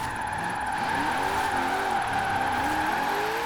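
A 1970 Buick GSX Stage 1 in Forza Horizon 4 revs hard and loud, its steady engine drone climbing in pitch and then dropping as it shifts into third gear.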